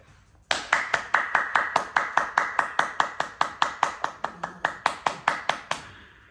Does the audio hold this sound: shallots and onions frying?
no